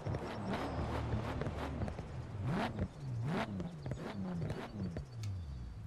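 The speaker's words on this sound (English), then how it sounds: "let's listen to this engine" An R33 Skyline's inline-six idles with a lean misfire in Forza Horizon 4, a lumpy engine note whose pitch rises and falls in uneven surges, with sharp pops and stumbles throughout.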